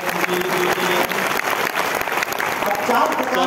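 A crowd at a Lucknow poetry recital with Kumar Vishwas breaks into lively, continuous clapping. Voices mix into the dense applause, which rises slightly toward the end.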